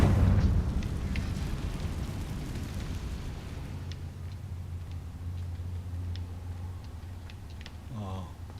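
Confringo fire spell from Hogwarts Legacy, a heavy booming blast at the start that decays into a low rumbling, crackling tail, with faint clicks and a brief voice near the end.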